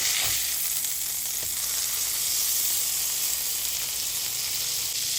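A burger frying in butter in a pan, a steady loud sizzle and crackle that holds without a break, close up, with no voices.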